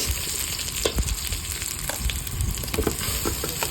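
Onion and garlic sautéing until brown in a pan for salmon head sinigang in miso: a steady close sizzle with occasional clicks of stirring, no voices.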